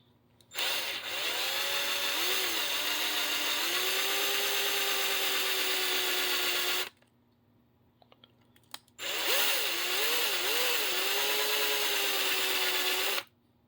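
A power drill bores out a crimped rivet on a BMW wheel in two long, loud whining bursts with a gliding pitch, separated by a short pause with light clicks.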